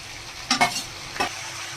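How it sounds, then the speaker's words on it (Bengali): Green chillies sauté in a pan with capsicum and onion for chilli chicken, two brief stirring scrapes over a faint background sizzle. "গ্রিন চিলি দিয়ে একটু কষিয়ে নেব।"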